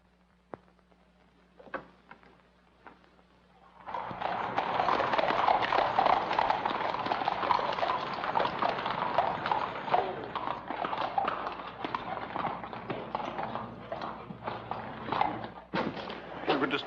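Horses' hooves clip-clopping loudly as mounted men arrive in a 1944 Whitechapel street scene, a busy uneven clatter of many hooves starting abruptly after a quiet opening and continuing to the end, with a voice briefly over it.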